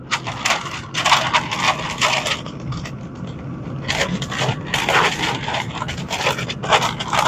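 A smoked brisket gets wrapped up and folded, loose crinkling and scraping bursts of wrapping material handled close by, uneven and choppy throughout.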